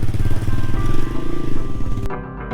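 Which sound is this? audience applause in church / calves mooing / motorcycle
motorcycle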